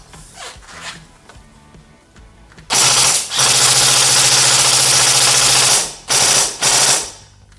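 An LDT SCAR-H DMR gel blaster with a stainless barrel fires, first as a few scattered shots, then in a long loud buzzing burst followed by two shorter bursts, all close and with no talk.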